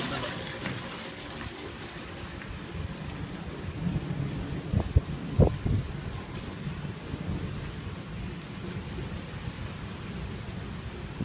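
Heavy rain pours steadily while deep thunder rumbles and cracks in the middle, loud and close outdoors.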